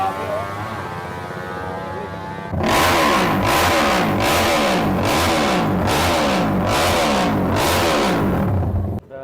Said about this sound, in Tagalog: Grabe yung makina oh.